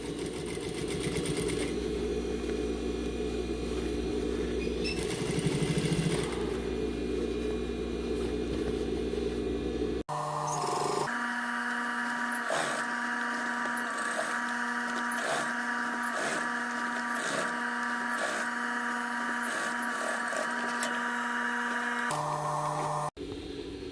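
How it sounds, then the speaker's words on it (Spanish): A sewing machine stitches a topstitched seam on a fabric bucket hat with a steady, close mechanical whir and rapid needle ticking, running almost continuously with a brief pause and change in tone partway through. "voy a ir cosiendo aquí a medio centímetro de la costura"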